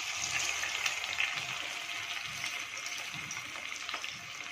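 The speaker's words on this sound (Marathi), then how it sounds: "आपले हे जे तुकडे आहेत ते आपण ह्याच्यामध्ये डीप फ्राय करून घेणार आहोत" Pizza bite pieces deep frying in hot oil over a low flame, a steady close sizzling hiss that continues evenly throughout, with faint low murmurs beneath.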